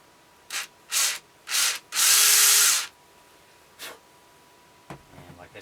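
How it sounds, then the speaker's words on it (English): A power drill bores a pilot hole in a half-inch wooden dowel in short bursts: three quick whirs, a longer sustained run, one more brief burst, then quiet handling sounds. "we'll just make a pilot hole in that"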